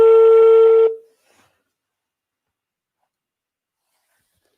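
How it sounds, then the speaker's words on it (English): A single steady electronic tone, like a phone ringback, sounds for about a second and cuts off, leaving silence. "All right, okay, it's ringing."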